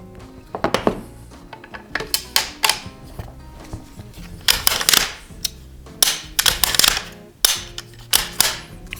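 A hunting rifle's bolt is worked and its trigger dry-fired during a functions check: close, sharp metallic clicks and clacks come in irregular bursts, with no talking.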